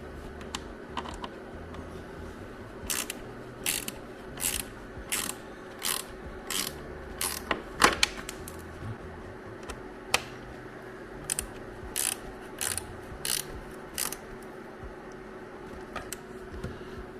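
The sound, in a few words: 1/4 inch drive ratchet wrench driving in panel screws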